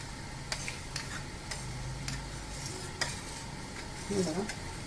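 Cooked dal for South Indian sambar is mashed and stirred in a pot, with soft scraping and sloshing and a few sharp clicks of the utensil against the vessel, close by.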